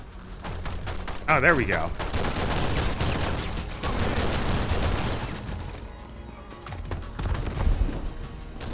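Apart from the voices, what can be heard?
gunfire in a Matrix video game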